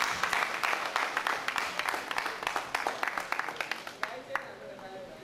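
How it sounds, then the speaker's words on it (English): Scattered applause from workshop participants at a police inmate behavioural programme event, a run of sharp individual claps over a thin room murmur that thins out toward the end. "All right, a round of applause for them."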